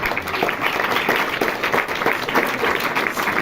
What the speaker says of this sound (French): Bon applaudissements.